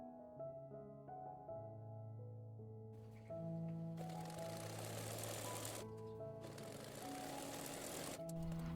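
Sewing machine stitching pieces of a six-panel embroidered salwar, running in long continuous bursts with a steady whirring hum, the drone rising louder partway through and pausing briefly between runs.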